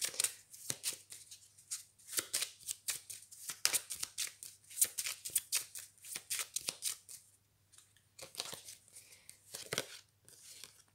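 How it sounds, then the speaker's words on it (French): Tarot cards are shuffled close by in rapid papery riffles and slides, bursts repeating in an uneven rhythm for several seconds, quiet and alone without talk. "je vais prendre une nouvelle carte pour la féminine"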